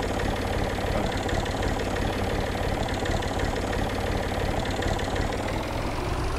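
A Massey Ferguson 235 tractor engine runs at a steady idle, a dense, continuous diesel rumble with a rough knocking texture, close and loud throughout with no talk over it.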